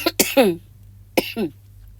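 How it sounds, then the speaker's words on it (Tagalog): A person with a lingering cough gives two rough coughs, each a quick pair of bursts, close to the mic with a short pause between them and a low hum underneath. "ubo pa ng ubo, di ba hindi pa gumaling"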